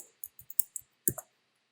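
Mouse clicks in After Effects while a new project folder is being created: a quick run of about six sharp, close, dry clicks, then a louder double click near the end, with no talk.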